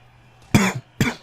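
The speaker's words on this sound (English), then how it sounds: "That's my I've just woken up cough." Two short, sharp just-woken-up coughs close to the microphone, one right after the other, with quiet around them.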